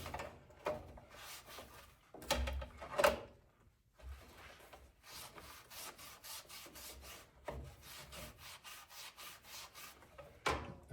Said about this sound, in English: it's erasing that dirt off of that cork, really without a whole lot of elbow grease going on at all.